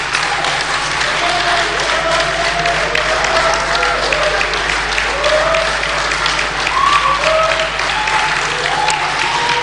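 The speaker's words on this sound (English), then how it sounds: "while the applause is going on" Studio audience applause at the Osun State governorship debate, a steady sustained roar of clapping across the whole stretch, loud and even, with faint voices and crowd murmur mixed beneath.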